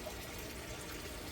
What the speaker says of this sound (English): as you can hear the water running, you can hear the water running, more water running for a reason